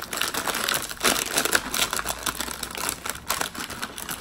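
A plastic cookie bag is opened in a prison, giving steady, close crinkling and crackling that runs the whole time without a pause and with no talking.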